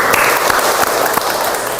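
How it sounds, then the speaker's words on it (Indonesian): A classroom of students applauds the top-ranked pupils, a short burst of dense, steady clapping from the whole room that fills the moment on its own. "Tepuk tangan dulu."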